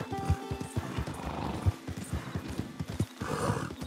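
Rhythmic hoofbeats clop steadily as a horse gallops in Red Dead Redemption 2, with whinnying neighs breaking in near the start and end.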